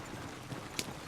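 Horse hooves clip-clopping in the Red Dead Redemption 2 video game, soft muffled steps under a steady ambient background with one sharp click near the end.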